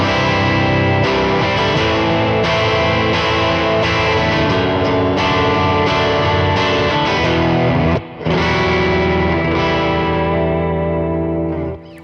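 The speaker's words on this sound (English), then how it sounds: "I said grungy before, a little grungy. Kind of, there's some crunch going on." Grungy, crunchy distorted electric guitar through a 58 Bandmaster amp tone, loud and dense with sustained chords and a brief cut near the end before ringing out again, close and alone.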